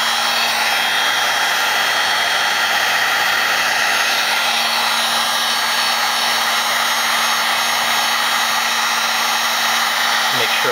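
Heat gun blowing hot air over a circuit board to cure the traces, a loud, steady, close roar with a constant whine and no pauses.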